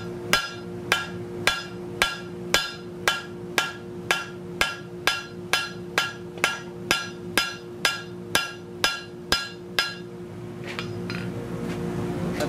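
Steel piece struck with a hammer to straighten out a bend, a steady run of about eighteen sharp metallic ringing blows at an even rhythm, close and loud, then a few lighter taps before fading into room noise.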